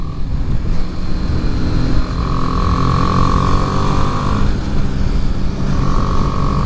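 A 2018 BMW G310R single-cylinder motorcycle cruises in sixth gear on a road with corners, its engine a steady loud drone under wind rush, with a pitched whine fading in and out.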